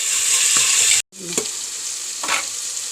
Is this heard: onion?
yes